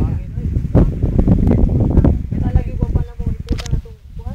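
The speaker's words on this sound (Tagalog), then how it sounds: "Gani kusog kay hangin." Gusty wind blasts against the microphone in rough, low rumbling bursts, while voices talk loudly underneath.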